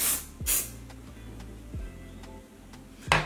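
Short hissing bursts of hairspray from an aerosol can, a couple of quick sprays followed by quieter clicks and another spray.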